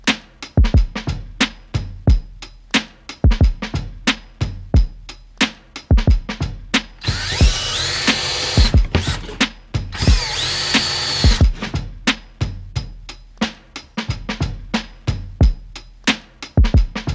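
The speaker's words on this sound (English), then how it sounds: "It's easier to cut wood, so I'm gonna cut the wood first" A power tool cuts a wood template in repeated short sharp bursts, clattering with an irregular rhythm, and two longer continuous high whining runs break up the sequence.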